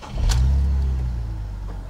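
A BMW E46 330ci pulls away with a low engine rumble that swells quickly and holds steady before easing slightly, close and fairly loud with no talking.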